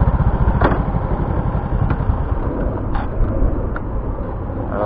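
A motorcycle engine idles close by in a parking spot near a river estuary fishing area at Benoa. Its rough, rapid low putter pulses steadily and loudly without pause, with a few faint clicks and no speech.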